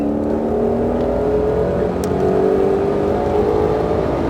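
A Ford Mustang Shelby GT500 accelerates on a race track, its engine holding a loud, steady droning roar with a rising tone and rushing wind and road noise around it.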